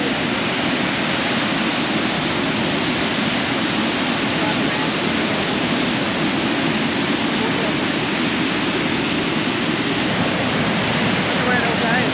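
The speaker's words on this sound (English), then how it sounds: "Tinaroo Dam. Look at all that water coming out. She's flowing." Water pours out of Tinaroo Dam in a heavy, constant rush, a dense broad roar that stays even from start to finish.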